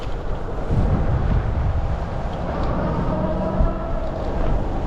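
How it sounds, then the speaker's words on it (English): Strong wind of roughly 35 mph roars across the microphone during a ride on a 72V dual-hub e-bike with 26x4 tires, a constant loud buffeting rush with low gusty swells and no voices. "it's so dang windy that it's hard to tell like what's going on"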